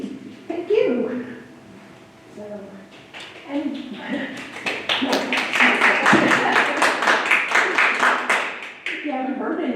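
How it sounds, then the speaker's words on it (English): An audience at a women's rights celebration breaks into loud, sustained applause, dense and steady for several seconds after a voice speaks at the start and fading as talking resumes near the end. "you're applauding now"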